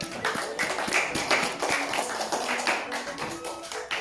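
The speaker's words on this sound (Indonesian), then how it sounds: "Tepuk tangan, Elit." An audience claps at a Balinese language month event, a steady patter of many hands close by with a voice faintly underneath.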